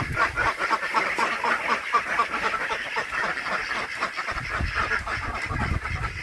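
A flock of restless ducks in a pen quacks continuously and busily close by, overlapping calls forming a restless, noisy chatter.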